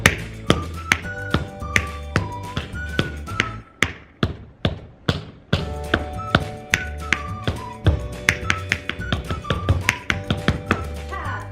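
Tap dancing shoes make crisp, sharp taps that ring out in quick rhythmic bursts, close and clear, with a brief pause before the steady pattern picks up again.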